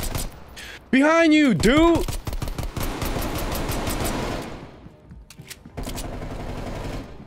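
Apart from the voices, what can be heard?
gunfire in the video game Call of Duty Cold War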